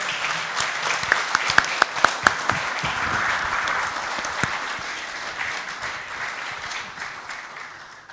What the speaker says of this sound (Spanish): Para ellos un lindo aplauso también.